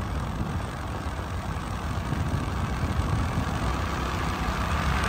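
A motorcycle cruises along an empty road at night with a constant, loud rumble of engine and wind noise that fills the whole stretch without a break.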